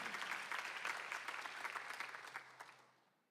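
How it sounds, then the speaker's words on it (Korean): A church congregation applauding during a Sunday afternoon service, a burst of dense clapping that swells briefly and then fades out over about three seconds. "박수 하나 더 해주세요"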